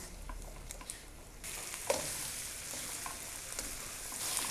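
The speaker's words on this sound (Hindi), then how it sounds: "इसको हम अच्छे तरीके से मिक्स कर लेंगे और 1 मिनट तक हम इसको फ्राई करेंगे" Onions, tomatoes and green chillies sizzle quietly in a pan for a Pakistani qeema karela dish, with a faint, steady fry and occasional soft stirring taps.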